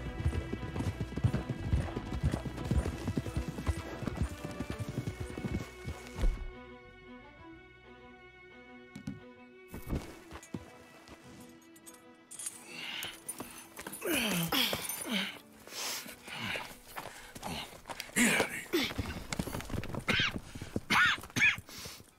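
Horses gallop in Red Dead Redemption 2 with a steady run of loud clip-clop hoofbeats, a whinny, then a short quiet gap before more hooves and rustling action noise return.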